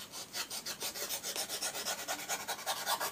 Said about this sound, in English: it's basically cutting the edge along the lip of the foam